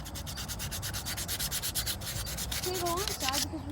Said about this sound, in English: Just gonna sand all this nice and clean.